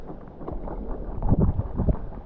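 Gusty wind buffets the microphone out on open water during a fall paddleboarding outing, a low rumbling roar that swells and fades, with no talking.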